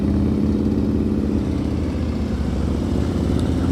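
A motorcycle engine runs in slow-speed riding practice around cones, a steady low throbbing drone held at slightly high revs, close and continuous with no talk.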